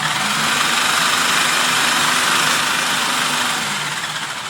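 An Imarflex IFP-500S food processor runs at speed 1, giving a steady whirring motor drone throughout that eases slightly near the end, with no voices.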